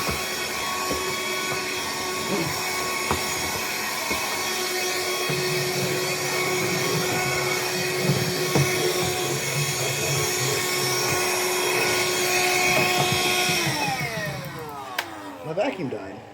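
A household vacuum cleaner runs close and loud with a steady whining drone, then its motor note slides downward near the end as it winds down and cuts out.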